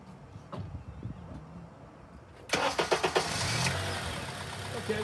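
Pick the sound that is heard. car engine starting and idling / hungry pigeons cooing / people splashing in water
car engine starting and idling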